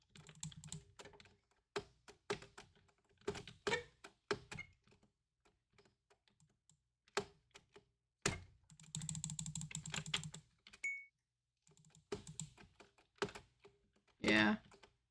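Typing on a computer keyboard about three or four years old, bursts of clacking keystrokes in uneven runs separated by pauses, close and fairly loud, with some talk between the bursts.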